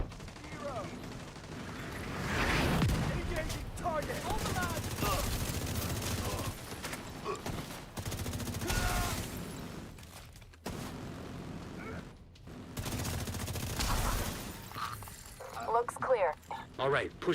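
Shooter video game gunfire, repeated bursts and rattling volleys with occasional blasts and mechanical clicks, loud and close, broken by brief pauses while a voice talks over much of it.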